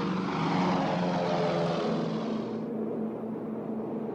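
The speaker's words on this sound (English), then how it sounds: "the sound of Allied planes overhead brought back terrible memories" Allied propeller aircraft drone steadily overhead during the Berlin Airlift, a continuous deep rumbling roar of piston engines that stays loud throughout, with the higher hiss fading slightly toward the end.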